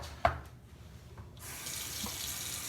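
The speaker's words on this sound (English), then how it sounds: "I just add a little bit of water to these." A tap is turned on after a sharp knock, and water runs in a steady hiss onto frozen, filled Kong dog toys.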